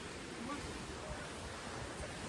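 A waterfall in Navi Mumbai pours steadily from close by, a dense, even rush of falling water that fills the scene without a break.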